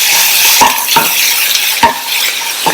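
Mashed potato filling with asafoetida and turmeric sautéing in a pan: a loud, steady sizzle with a few sharp scrapes and clinks of a spoon against the pan at irregular moments.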